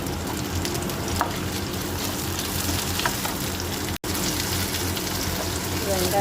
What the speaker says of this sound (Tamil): சின்ன வெங்காயம், பூண்டு, வரமிளகாய் எல்லாத்தையும் ஒட்டுக்காக போட்டு நல்லா அப்படி வதக்கிட்டு